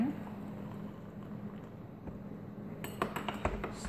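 A spoon stirs coffee with milk in a cup, a few light metallic clinks against the rim near the end after a quiet, faintly noisy stretch.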